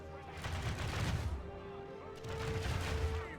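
Artillery barrage in the Medieval II Divide and Conquer strategy game, heard as dense rolling booms and crackling impacts in two loud waves with a brief lull between.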